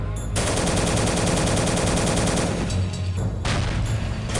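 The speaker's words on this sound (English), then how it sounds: "What the fuck is shooting at me?" Sustained gunfire from the World War II game Soldiers: Heroes of World War 2 at Villers-Bocage, with dense rapid bursts roaring for most of the clip, a brief easing, then renewed loud firing near the end.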